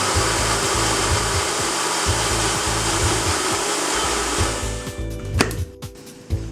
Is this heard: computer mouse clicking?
no